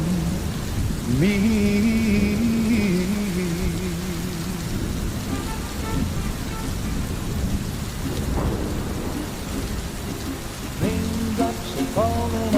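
Heavy rain pours steadily on a rainy day at HSIA, with a constant dense hiss, rumbling thunder and tonal sounds rising and falling over it.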